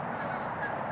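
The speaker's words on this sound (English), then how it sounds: "So Canadian geese," Canada geese honking at Burnaby Lake in British Columbia, a dense steady chorus of nasal honks from a flock, moderately loud and close, with no talk.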